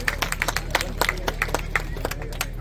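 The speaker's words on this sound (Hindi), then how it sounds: "तालियां बजाएं। तालियां बजाएं।" Scattered hand clapping from an audience at a Gayatri mahayagya gathering in Lucknow, a loose patter of individual claps over low crowd murmur and faint background voices.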